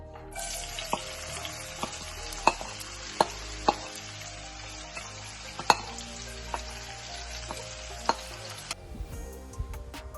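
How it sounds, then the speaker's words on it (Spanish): Onion softens in rendered pork rib and bacon fat in a pan, a steady close sizzle punctuated by regular sharp utensil taps and scrapes. The sound cuts off near the end. "hemos aprovechado el aceite de la carne para pochar la cebolla"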